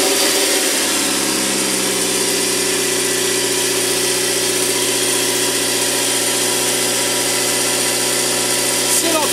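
A van engine that struggles to pick up speed is revved: the pitch climbs in the first second, then holds at a steady, loud, droning hum with a faint shift near the end.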